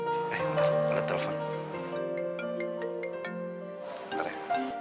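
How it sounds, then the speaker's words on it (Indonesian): A phone ringtone plays as a repeating melodic tune with bright tonal notes, loud and close, in an indoor Indonesian drama scene; it pauses briefly in the middle before resuming. "Bentar, ada telepon."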